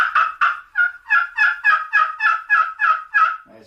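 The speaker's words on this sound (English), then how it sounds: "when you hit it a lick, it's gonna make a" A hickory striker drawn across a friction turkey call gives a clear run of about ten rapid raspy yelps in steady rhythm, close and loud, with no voices.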